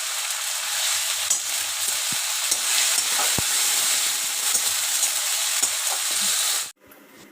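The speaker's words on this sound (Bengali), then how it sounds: "মশলাটা কষাচ্ছি, ভালো করে মশলাটা কষিয়ে নেবো" Masala spice paste frying in a pan as it is stirred and cooked down, a loud steady hiss and sizzle with occasional utensil knocks, stopping suddenly just before the end.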